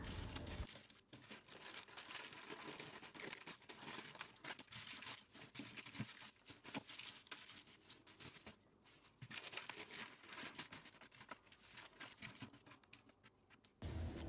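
Plastic freezer bags rustle and crinkle steadily as single-meal portions of prepared food are packed, a close, continuous crackling handling sound with brief pauses and no talking.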